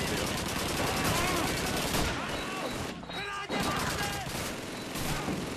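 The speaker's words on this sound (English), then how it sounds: "That sounds like an MG-40" An MG machine gun fires repeatedly during a docks battle in Call of Duty 2, with rapid bursts of automatic shots and scattered rifle fire. The shooting is loud and continuous, dipping briefly once before the clatter resumes.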